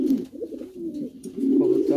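Danish pigeons, a male among them, cooing close by in a steady low rolling call that swells louder toward the end, with no talk over it.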